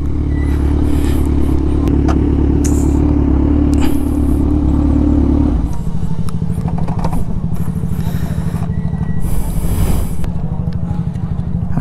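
Motorcycle engine, compared against a Kawasaki, running loud and close with a steady heavy rumble that shifts pitch midway, with clattering and scraping noises and occasional voices over it.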